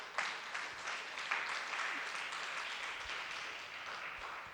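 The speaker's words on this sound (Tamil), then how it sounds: "கைத்தட்டுவோம் அத்தனை பேர்" Steady applause from a church congregation, a dense wash of clapping that holds at an even level throughout without pauses.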